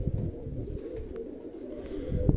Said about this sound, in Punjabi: ਲਓ ਭਰਾ ਚਾਰ ਕਬੂਤਰ ਛੱਡਦੇ